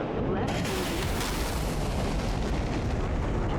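Explosion from a missile striking a jet in DCS World, a dense, loud rumbling blast that fills the whole clip, with a sustained roar and no clear gaps.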